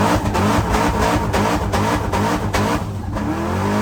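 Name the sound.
V8 race cars revving at a race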